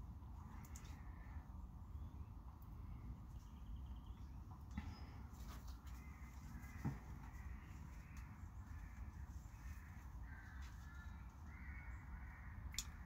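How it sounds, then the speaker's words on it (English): An agitated crow caws in the distance, faint repeated harsh calls over a low outdoor background hum, with no talk. "Very angry crow in the distance."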